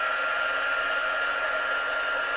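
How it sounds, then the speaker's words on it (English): A hair dryer blasts fresh paint on a miniature with a steady, loud, even whoosh and whine that never varies, with no voices over it. "I'll just give this a quick blast with the hairdryer again"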